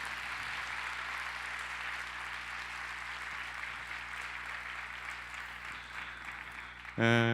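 Applause from the audience at a church young-adults worship service after a performance, a soft, diffuse clapping heard at some distance under a steady hum, ending with a sudden louder tonal sound at the close.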